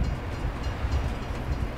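A train rumbling past in the Farming Simulator 22 game world, a steady low, dense rolling drone with no distinct horn or clacks, continuous and fairly close throughout.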